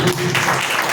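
A congregation at a Sunday church service bursts into loud, dense clapping that fills the hall continuously throughout.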